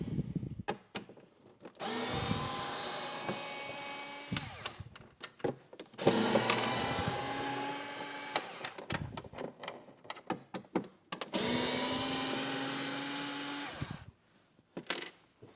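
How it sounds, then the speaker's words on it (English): Screws are backed out of a 2018-or-newer Honda Gold Wing saddlebag with an electric driver in three sustained whirring runs separated by pauses, with small clicks and handling noises between runs. "as we take out the rest of these screws"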